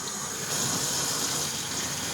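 Warm water running from a tap into a container for shampooing with a Kirby Avalir carpet cleaner, a steady, close gushing flow that swells slightly partway through, with no speech.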